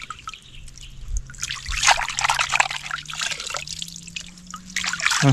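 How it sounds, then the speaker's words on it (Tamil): Water pours and trickles over a whole chicken being rinsed outdoors in a forest, in an uneven splashing stream that is close and moderately loud, with a steady low hum and birds calling faintly behind. "தண்ணியை ஊற்றி நல்லா அலசிக்கிறோம்"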